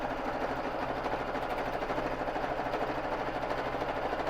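A BabyLock Jazz sewing machine mounted on a quilting frame stitches free-motion, giving a steady, fast mechanical hum with rapid rhythmic needle chatter, moderately quiet and continuous, no voices.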